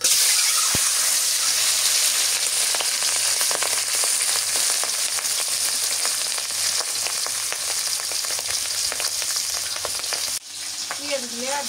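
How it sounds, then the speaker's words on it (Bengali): Local chicken eggs frying in a pan give a loud, steady, dense sizzle that runs continuously, with a brief dip near the end as the pan is stirred, and no voices. "ডিমগুলো ভুনে করি।"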